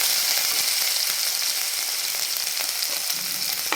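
Ginger garlic paste sizzles and fries in hot oil with mustard seeds and cumin, a loud, continuous crackling hiss close up, with a light stirring scrape near the end.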